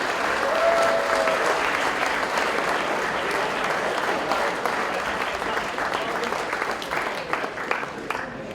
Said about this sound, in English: one more round of applause for all of our middle school chess finalists